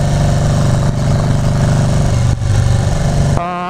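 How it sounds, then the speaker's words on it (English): Loud two-stroke motorcycle engine running close by, a steady buzzing drone with two brief dips before it cuts off near the end. "But this bike is so loud"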